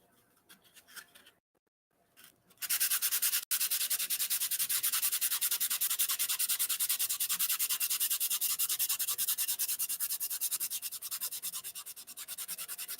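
Hand sanding a briar pipe makes a steady, close, rasping rub that starts after a few quiet seconds and continues loud and even with fast back-and-forth strokes.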